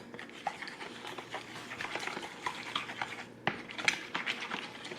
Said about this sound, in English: First you beat the egg and the milk, 3/4 of milk together.